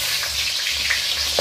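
Pieces of rui fish fry in a pan for a village-style curry, a close, steady crackling sizzle with small popping spurts and occasional stirring, no voices.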